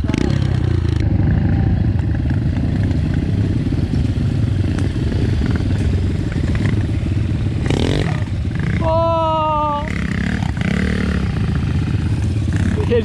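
An enduro motorcycle on MRF tyres rides nearby with a loud, continuous engine rumble, and a brief rising whine cuts through midway.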